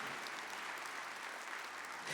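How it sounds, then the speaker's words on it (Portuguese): A congregation at a Catholic healing and deliverance service claps, producing a dense, even wash of applause at a distance with a steady level and no talking. "Aplauda os efeitos da palavra de Deus"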